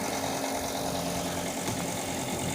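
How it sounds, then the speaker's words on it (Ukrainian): A ventilation fan runs on a home LiFePO4 battery and inverter setup during a load test, giving a dense, constant hum and whoosh with a low tonal drone and no pauses. "Включаємо спочатку вентиляцію."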